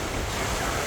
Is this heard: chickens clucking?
no